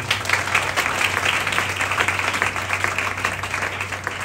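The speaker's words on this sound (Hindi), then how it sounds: "लोग, जोरदार तालियां बजाइए।" A church congregation in Pakistan breaks into loud, sustained applause. The dense clapping holds steady at close range throughout, and no speech sits over it.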